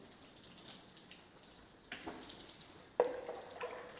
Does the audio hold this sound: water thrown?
yes